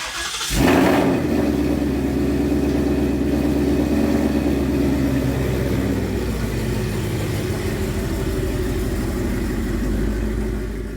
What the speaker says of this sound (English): bust out the pressure washer, get this thing started, see how it actually performs